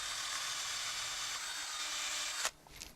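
A length of wire spun as a drill bit bores steadily through wood, giving a loud, continuous grinding whine for most of the moment before it stops abruptly, followed by a few faint scrapes.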